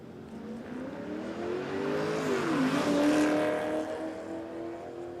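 A Corvette racing down a drag strip, its engine roaring loud and close as the pitch climbs, dips briefly at a shift, then climbs again over steady broadband noise. No one speaks.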